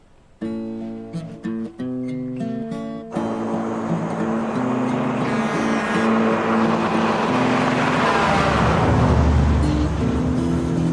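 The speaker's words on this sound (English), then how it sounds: "It was a cattle truck." A cattle truck drives past on an open road, its broad engine and road roar swelling steadily to a loud, close pass near the end, with music playing at the start and no talk.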